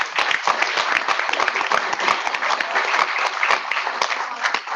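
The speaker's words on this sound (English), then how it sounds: "She deserves a big round of applause." An audience at a conference on the U.S.–Mexico cross-border sewage crisis applauds for Catherine Greenberg, dense sustained clapping from many hands filling the room at close range without pause.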